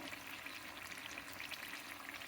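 Onions frying in a covered pan make a faint, even crackling sizzle that holds steady throughout, with no voices present.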